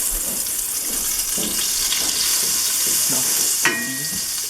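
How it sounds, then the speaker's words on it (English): Garlic frying in a pan while being stirred, a steady close sizzle with soft scraping strokes from a spatula and a brief clink near the end. "Stir the garlic."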